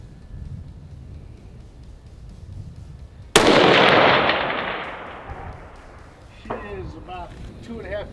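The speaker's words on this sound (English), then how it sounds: "Then I want you to squeeze that trigger" A single long-range rifle shot cracks loudly after a quiet, tense stretch, then its echo rolls away slowly across open ground while a person starts talking.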